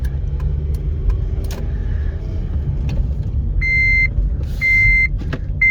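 Two sustained electronic seatbelt warning chimes ring out inside a Fiat 124, one after another, over a steady low engine rumble.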